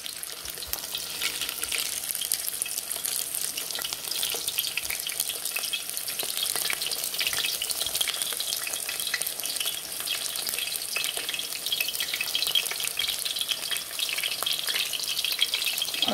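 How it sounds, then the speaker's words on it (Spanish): Longaniza sausages, also called chorizos, fry in very hot oil with a steady, close crackling sizzle that runs unbroken from start to finish, without any voices. "Esto es lo que voy a dorar ahorita. Estas son longanizas o chorizos, como le quieran llamar. Miren, el aceite está bien caliente."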